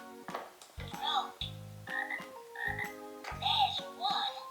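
A Fisher Price Laugh & Learn Puppy's Animal Friends toy book plays an electronic frog croaking sound, a series of repeated, evenly paced croaks with musical tones mixed in, close and clear.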